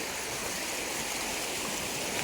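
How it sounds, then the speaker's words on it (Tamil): River water rushing forcefully near a fishing spot, a dense, loud, unbroken roar of flowing water close to the listener. "இதுக்கு எவ்வளோ தண்ணி ஃபோர்ஸாக போகுது பாருங்கள், சவுண்டு கேட்குதுங்களா?"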